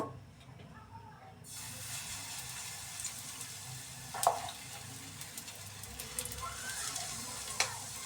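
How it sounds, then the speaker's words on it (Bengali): A small amount of oil sizzles on a flat tawa, a steady frying hiss that starts after a quiet opening second and carries on with scattered crackles and a few sharper spatters. "তাওয়ার মধ্যে সামান্য পরিমাণে তেল দিয়ে নিয়েছি, এখন ভেজে নিব।"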